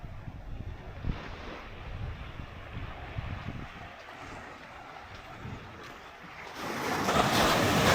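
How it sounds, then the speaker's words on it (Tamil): Waves wash and surge in steadily on the Australian coast between Adelaide and Perth, with broadband wind-like hiss, building to a louder, closer rush of water near the end. "வேறு உள்ளே வருது பாருங்க தண்ணி அழகா."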